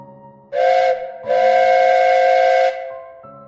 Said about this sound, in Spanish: En la cinta solo había un sonido, el silbato del tren